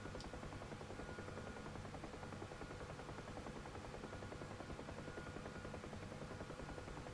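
Two KA-50 helicopters flying in a VR flight simulator game, a steady dense rotor drone with constant blade chop holding evenly throughout, with no talk over it.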